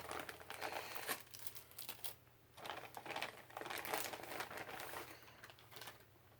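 A plastic bag crinkles and rustles while a wig and wig cap are unboxed, in faint, close handling bursts with brief pauses between them.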